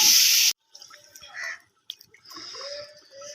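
Rice being rinsed in water at home: a brief, loud gush of running water at the start, cut off sharply and followed by quiet, scattered splashes and handling noises.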